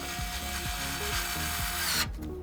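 A powered screwdriver drives screws back into a computer case while a video editing PC is being built. It gives a continuous whirring buzz with repeated ratcheting steps, close and steady, then stops abruptly near the end.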